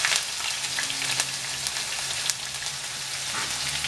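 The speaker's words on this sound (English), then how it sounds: "so now we're going to fry the onions and garlic" Onions and garlic fry in a frying pan for chicken biryani, giving a steady, moderately loud sizzle with scattered crackles and pops throughout.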